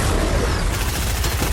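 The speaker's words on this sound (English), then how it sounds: "I shoot down the saucer while on it, and then this guy takes me out" Gunfire from the video game Fortnite, fired while shooting down a flying saucer, comes as a loud, dense burst of rapid shots that fills the whole short stretch.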